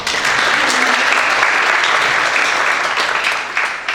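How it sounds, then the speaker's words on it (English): A seminar audience of high school seniors gives a speaker a loud, sustained round of applause, dense and even throughout with a slight thinning near the end. "A big applause."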